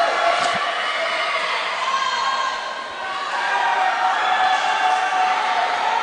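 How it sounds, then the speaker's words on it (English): Spectators at a high school swimming meet cheer and shout as swimmers near the wall, a loud, sustained wash of crowd noise with whoops, dipping briefly midway before swelling again. "Well, you can hear the excitement in the crowd."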